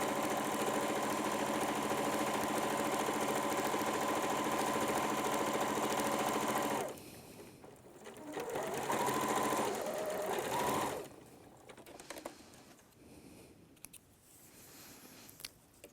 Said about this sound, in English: keep sewing until you get to the bottom